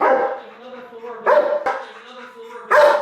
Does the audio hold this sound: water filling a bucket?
no